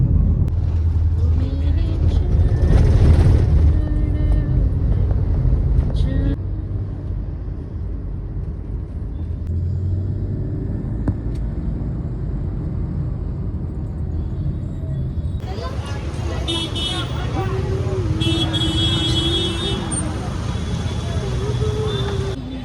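Inside a cab moving through road traffic, a steady low rumble runs throughout, with passing vehicle noise and people chatting over it.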